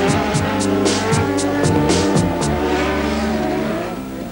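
A mid-engined race car driving on ice, engine revving hard through rising and falling notes with rapid gear changes, loud and close throughout.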